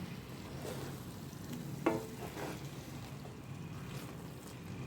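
Spice paste of poppy seed and coconut cooks in a pan, giving a faint, low simmering sizzle with one sharp scrape of a spoon partway through; quiet and steady, no voices.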